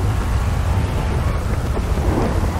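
Steady heavy rain and a low rumble of thunder fill a stormy scene in the GTA V video game, a constant, loud roar without breaks or talk.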